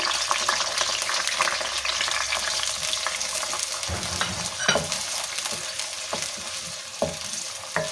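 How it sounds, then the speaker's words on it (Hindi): Chopped onion sizzling and frying in hot oil in a pan for a kahri pakora dish, a steady loud crackle with a few stirring clatters partway through. "इन्हें हम फ्राई कर लेंगे। साथ में हमने एक छोटा प्याज कटा हुआ डाल देंगे।"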